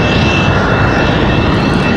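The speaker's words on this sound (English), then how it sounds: "Republic Airways 4707 making a weird outbound path here" A Republic Airways airliner departing Raleigh-Durham International Airport for LaGuardia, a loud, steady engine roar with a faint high whine, close and continuous for a brief moment without talk.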